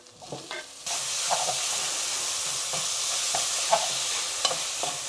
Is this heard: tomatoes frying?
yes